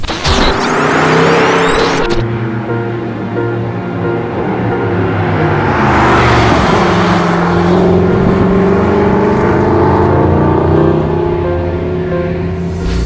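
A Mercedes-Benz SLS AMG drives on the Circuit of the Americas track in Austin, its engine loud and continuous, revving and shifting pitch as it accelerates and sweeps past.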